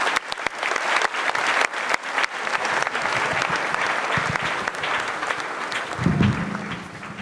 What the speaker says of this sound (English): I would invite the area head, Church of Pentecost, Koforidua area, Apostle Mike Kwame to give us some brief remarks with a huge round of applause